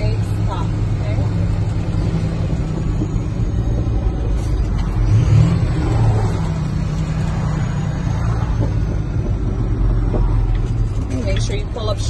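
Truck engine rumbles steadily and close during a CDL training drive as the rig pulls over onto the right shoulder for an emergency stop, a low continuous drone with an instructor talking over it.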